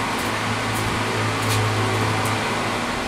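Compressed air blowing chips out of threaded holes in a lathe chuck spacer, a loud continuous hissing rush held steadily for a few seconds, close up.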